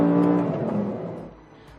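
An Audi R8 LMX engine revs hard and accelerates in a loud, close, rising roar that holds for about a second before easing off, with no talking.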